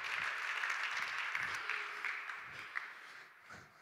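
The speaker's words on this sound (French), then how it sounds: "avec des applaudissements, c'est toujours bien pour garder le rythme" Audience applause at a health-and-sport tennis conference, a steady, moderately loud wash of clapping lasting throughout, with faint voices murmuring underneath.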